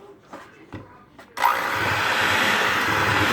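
An electric mixer whirs steadily through gluten-free red velvet cake batter with buttermilk, starting abruptly after a few quiet clinks and then running at an even, loud drone until the end.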